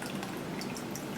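Water draining out of a pressure tank, a steady, close hiss of running liquid with faint drips, continuous and without voices.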